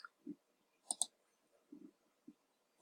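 A computer mouse gives a quick double-click, two sharp ticks close together, while navigating reports in accounting software. It sounds near and quiet, with a few faint desk knocks and rustles around it in an otherwise silent room.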